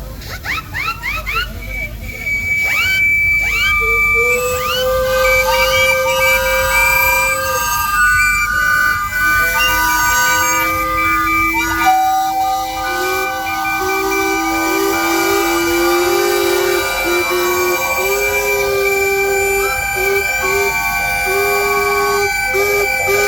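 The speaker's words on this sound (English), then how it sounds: "I want to hear the whistles." Several steam engine whistles blow loudly together at a steam engine rally, long overlapping tones sliding and holding over a continuous hiss, with voices faintly underneath.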